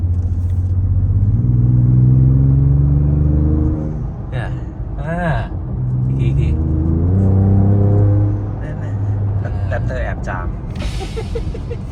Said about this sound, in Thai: เสียงโบออฟทำงานด้วยอะ ฟิวฟิวเออฟิวฟิวเลยอะ เดี๋ยวลองฟังนะ